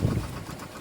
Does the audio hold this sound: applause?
no